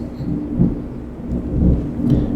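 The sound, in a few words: thunderstorm in Farming Simulator 22 video game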